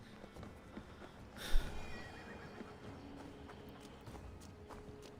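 A horse in Assassin's Creed Valhalla gives a short neigh around the middle, rising out of a low, steady game ambience with faint hoof movement, fairly quiet overall.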